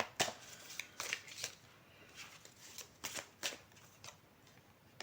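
Tarot cards being shuffled by hand, a series of crisp riffling snaps and soft slides in uneven bursts, close and fairly quiet with no voices.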